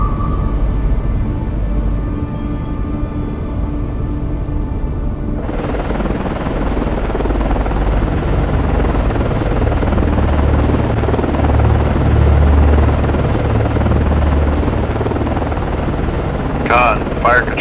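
An aircraft in the submarine video game Cold Waters, a loud steady rotor-like drone with a broad rumble that runs the whole time.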